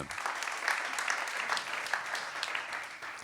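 Audience applause at an award ceremony in honour of a winning entry: steady, dense clapping from a sizeable crowd, moderately distant and sustained throughout with no voices over it.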